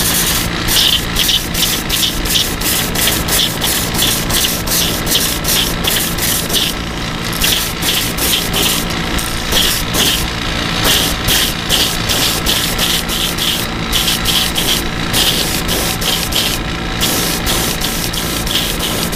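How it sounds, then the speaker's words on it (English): An airbrush fitted with a 0.5 needle sprays paint in a loud, steady hiss, with rapid rhythmic pulsing and brief dips where the trigger eases. "Just going to spray this completely"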